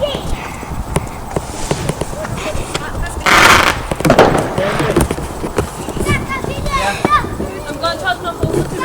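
Fireworks go off outdoors on bonfire night with sharp crackling pops and a brief louder burst, mixed with footsteps and rustling as people talk nearby.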